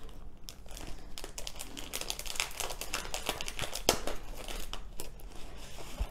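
A crinkly plastic package holding a Memory Dex card binder is opened by hand. It gives continuous close crackling and rustling with sharp snaps and tearing bits throughout, and no one speaks.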